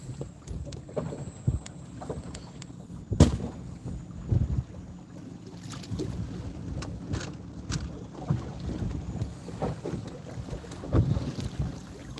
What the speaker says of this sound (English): This wind's really blowing.